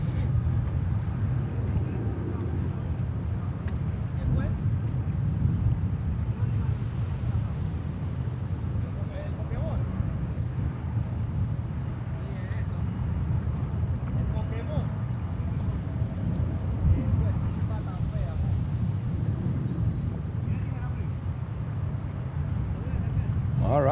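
A JetBlue Airbus A220 departs JFK airport as a steady, low, distant jet roar that holds for the whole stretch, mixed with wind rumble and outdoor background noise.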